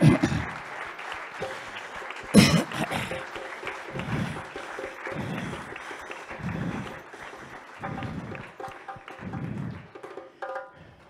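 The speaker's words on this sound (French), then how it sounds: "Dans les applaudissements." Applause from an audience at a gathering on Indigenous peoples and living memory, a broad steady clatter of many hands with louder rhythmic swells recurring every second or so, moderately close, with no voices.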